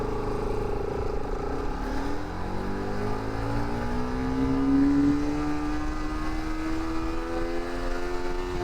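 A Bajaj Pulsar RS200 motorcycle accelerating hard in first gear, its engine note loud and continuous as it climbs steadily in pitch over several seconds, with no talking.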